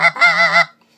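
A single short, reedy honk from a snow goose call, blown to imitate many birds feeding, wavers in pitch and is heard up close and alone.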